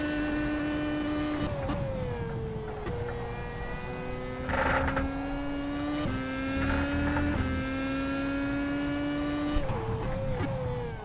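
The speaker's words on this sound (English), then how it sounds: "Oh, got a little bit aggressive on the brakes there. Slide lock up coming into the corner." A Marussia F1 car in rFactor 2 with a high whining engine note that steps down through several downshifts under braking, steady and close with no voices.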